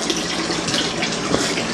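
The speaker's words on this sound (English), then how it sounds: "right now the water level is gradually getting lower because I have the drain pump on that's synchronized with a float control" Water drains steadily from a backyard fish pond, pulled by a pump switched by an industrial float control. It makes a continuous loud rushing, splashing wash with no pauses and no voices.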